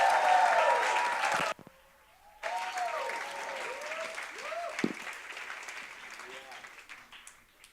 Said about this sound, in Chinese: 我们大声的拍掌说哈利路亚，欢迎他们来到台上